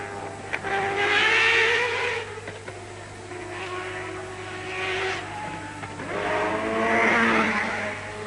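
Race cars at the 1991 Le Mans 24 Hours, with a Silk Cut Jaguar among them, roar past one after another. Their engine notes climb and fall loudly against a constant background drone, and no voices are heard.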